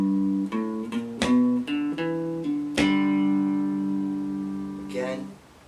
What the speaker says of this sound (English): So now I want you to strum this second string